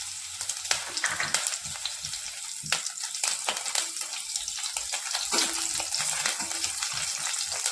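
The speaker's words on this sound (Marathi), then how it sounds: "तेल गरम झालं आहे, आपण मिरच्या टाकून घेऊ." Green chillies frying in hot peanut oil in a pan, a steady close sizzle with crackling pops and occasional stirring scrapes throughout, no voices.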